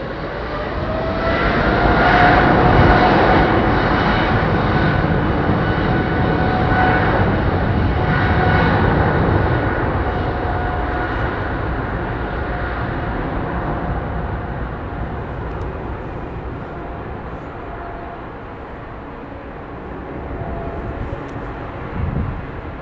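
A Qatar Airways Boeing 777 airliner at London Heathrow, its engines giving a loud, sustained jet roar that swells early, holds, then slowly fades into a steady distant rumble, with no voices.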